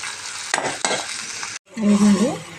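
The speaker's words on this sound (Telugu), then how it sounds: "ఇప్పుడు అయితే చక్కగా మనకి అరగా ఫ్రై అవ్వాలండి" Hissing sizzle of food frying in a pan, broken by two scraping stirs, a brief pause, then louder sizzling with a faint tonal whine.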